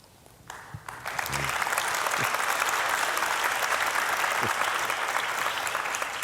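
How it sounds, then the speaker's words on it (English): An audience bursts into sustained applause after a few scattered early claps, dense and steady clapping filling the room at moderate distance. "They'll applaud for anything."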